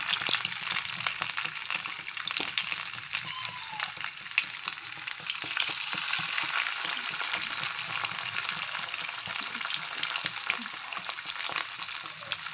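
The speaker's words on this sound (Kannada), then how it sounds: "ಈಗ ಫ್ರೈ ಮಾಡ್ತಾ ಇದ್ದೀನಿ. ಅಂಜಲ್ ಮೀನು ಫ್ರೈ ಮಾಡಿದೆ." Anjal fish (seer fish) frying in a little oil in a pan on a gas stove, a continuous, close sizzle with crackles and spatters throughout.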